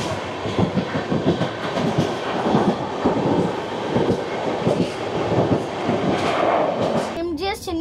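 An LTT train overtakes the Coromandel at Mecheda station, passing close with a loud rumble and rhythmic clatter of wheels over rail joints, and a voice breaks in briefly at the end.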